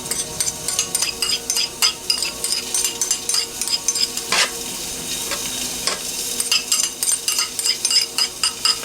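Garlic and onions frying in a pan, a steady close sizzle with repeated scraping and clinking of a utensil stirring against the pan.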